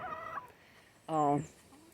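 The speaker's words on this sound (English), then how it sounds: "this is one of the Barred Rock chicks I bought back in spring for that broody chicken." Barred Rock chickens give two short clucking calls close by, a brief nasal cluck followed by a louder, longer throaty one, with quiet pauses between.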